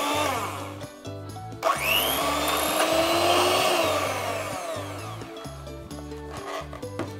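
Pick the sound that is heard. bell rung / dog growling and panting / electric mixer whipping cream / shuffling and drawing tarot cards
electric mixer whipping cream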